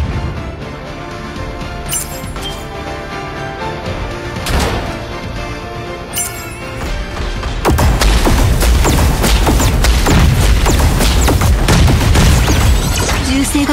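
Gunfire and booming impacts in the mecha battle game Super Mecha Champions, loud and continuous, with a dense barrage of blasts and thuds that grows heavier partway through over background game music.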